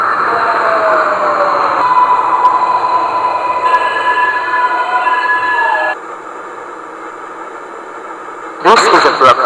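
A simulated New York subway train in the OpenBVE game hums and whines steadily, with tonal motor sounds and a drop in noise partway through, then a brief burst of rattling.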